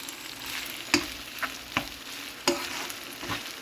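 Ragi mixture is mixed by hand in a pan after the stove is switched off: a soft, faint rustle broken by several sharp knocks and scrapes at irregular intervals.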